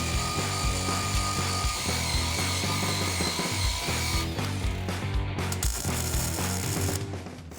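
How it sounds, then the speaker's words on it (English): A power grinder stripping paint off the steel frame rail of a converted mail Jeep, a loud continuous rasping whine with gritty rattles that shifts in pitch midway and eases off at the end, close by. "We'll grind all this paint off."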